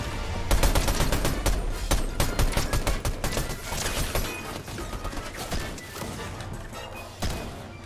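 A high-recoil gun in a Fortnite-style shooter fires rapid, loud bursts of shots that crack repeatedly over several seconds, thinning out toward the end.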